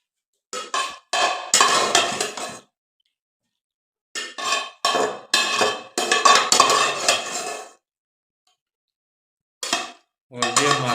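Cooked macaroni is scooped and tipped from one cooking pot into another vessel in a home kitchen, with repeated metallic scraping and clinking of a utensil against the pot in short bursts separated by pauses.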